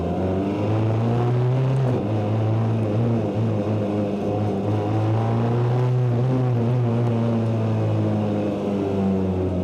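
A BAC Mono sports car with a manual clutch pulls away in first gear on a wet road, its engine droning steadily and loudly close by, rising and falling slightly in pitch throughout.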